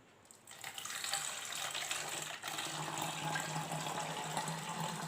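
Rice-washing water poured from a container through a funnel into a bottle, a steady trickling gush that starts after a brief quiet moment and continues evenly and close by, with no one speaking.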